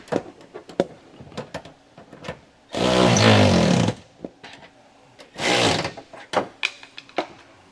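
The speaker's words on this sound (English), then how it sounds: "with your 9/16 socket, go ahead and tighten these down" A 9/16 socket wrench tightens bolts on a Lippert JT's Strong Arm jack stabilizer of a 5th wheel RV, giving sharp ratcheting clicks broken by two loud grinding bursts, close by and without talking.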